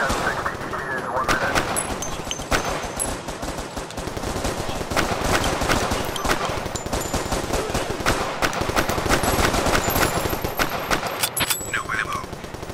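Rapid machine gun fire blazes in the Crisis VRigade shooter game, dense bursts of close, loud shots rattling almost continuously with brief gaps.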